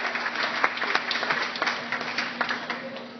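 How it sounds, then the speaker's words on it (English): A crowd at an Irish festival gives a steady round of applause, dense clapping at moderate volume lasting the full few seconds with no speech over it. "Round of applause for Tony Blazek"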